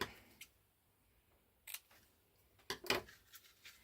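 Scissors cut lace paper in a few quiet, close snips, each a short crisp crunch, spaced irregularly within near silence.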